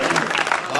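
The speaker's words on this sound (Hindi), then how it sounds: "सर एक बार अपनी माँ के लिए अपनी तालियां बजा दें" Audience applause at a Hindi poetry gathering (kavi sammelan) in Sultanpur, honoring mothers: a dense, steady patter of many hands clapping together, filling the whole short stretch without a break.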